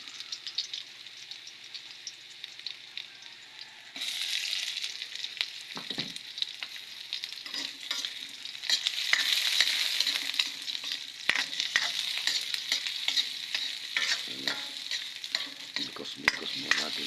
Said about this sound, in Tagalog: Magluto tayo ng sibuyas,